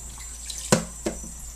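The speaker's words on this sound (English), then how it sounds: "Let me rinse off my shit here." Water running from a tap while something is rinsed off during home cooking of beef stew and curry, a soft steady flow with two sharp splashes or clunks, close by, no talk.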